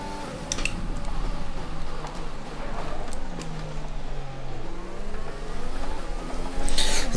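A simulated Formula 1 race car engine in the F1 2020 video game roars during an overtake, a loud sustained high-pitched whine that rises and falls with gear shifts and revving.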